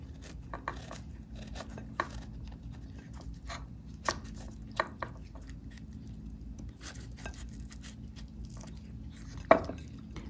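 A knife cuts into mangosteen fruit with a few soft, scattered chops and squishy clicks, quiet and close, ending with one sharper crack near the end.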